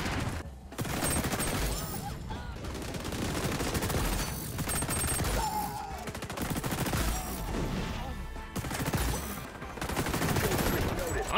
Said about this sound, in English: Let's try the new assault rifle out.